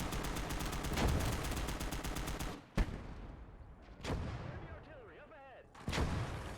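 Mortar blasts and machine-gun fire ring out in the Gates of Hell battle game, a rapid burst of automatic fire giving way to heavy booming impacts and scattered shots, with a voice speaking over parts of it.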